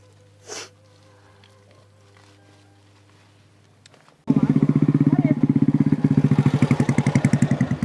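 Motorcycle engine on a rough, extreme village road, quiet at first with a faint sound early on, then abruptly loud from close by as the engine chugs in a rapid, pulsing rhythm under strain.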